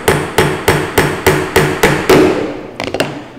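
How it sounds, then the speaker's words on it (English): Hammer blows driving a glued wooden joint together: eight loud, evenly spaced strikes, then a short flurry of lighter, quicker taps at the end, with no talking. "We can align this here and finish hammering."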